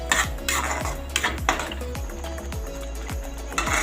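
Spoon stirring tomato puree into a shahi paneer curry in a metal pan, with a regular series of close scraping and clinking strokes and faint sizzling underneath.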